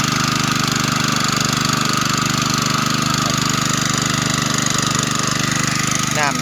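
A water pump engine running on bamboo charcoal instead of fuel drives a pressure pump for a sprinkler system on a grass farm, droning loudly and steadily up close throughout.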